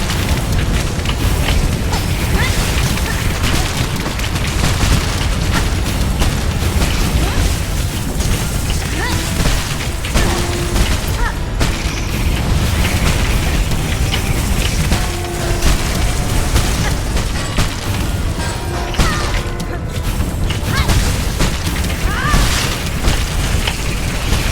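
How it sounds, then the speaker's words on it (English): Explosions from bombs in a video game boss fight with multiple enemies, heavy continuous booming and crashing layered over dense game noise throughout, loud and busy with no clear pauses. "the exploding bomb just like snipes me out of nowhere"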